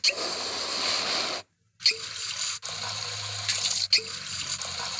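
Water runs steadily from a tap in a video game, a constant hissing stream that cuts off briefly twice and resumes, close and moderately loud with no talk.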